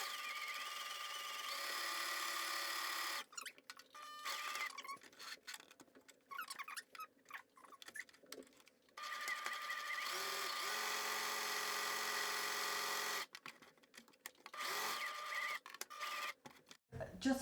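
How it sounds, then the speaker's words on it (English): Sewing machine stitching a seam around the edge of two ribbons for towel ties: a steady whirring motor hum in long runs with short stops between, faint and close, with a person talking in the pauses. "Just finished sewing the seam around the edge of these two ribbons."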